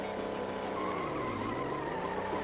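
Car engine from a Game Boy Advance racing game, a steady buzzing drone with a shifting pitch that holds close and loud the whole time, with no talk over it.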